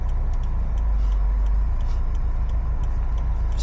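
Inside a 2018 Subaru WRX STI with a manual gearbox, driving through a Winnipeg winter: steady low engine drone and road rumble fill the cabin, with faint intermittent ticks and clicks over the constant hum.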